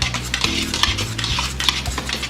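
A spoon scrapes and clinks against a pot while a food mixture is stirred, with rhythmic bursts of knocking and scraping close by and no talking.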